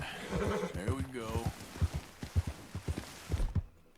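A horse in the video game Red Dead Redemption 2 whinnies once at the start, followed by a run of soft, evenly spaced hoof thuds, with speech over the whinny.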